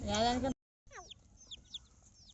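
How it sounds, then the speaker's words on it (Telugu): A hen with small chicks makes several short clucks and chirps, fairly faint, after a brief burst of a person's voice at the start. "పెద్ద కోడి వచ్చింది పెద్ద కోడి పెద్ద కోడి చిన్న కోడి పిల్లలు"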